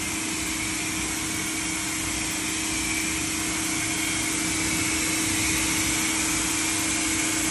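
An Active 2.0 high-flow pressure washer rinses foam off a car, giving a loud, steady hiss of spraying water and motor hum that runs continuously with no breaks.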